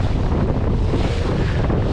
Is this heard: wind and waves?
yes